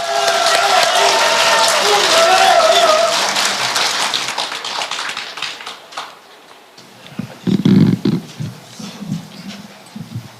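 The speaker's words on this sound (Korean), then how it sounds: "뜨거운 박수로 맞아주시기 바랍니다" Crowd applause and cheering at a New Politics Alliance for Democracy party leadership rally in Chungbuk, welcoming candidate Moon Jae-in to the stage; loud and sustained at first, then fading, with an announcer's voice and scattered crowd noise afterward.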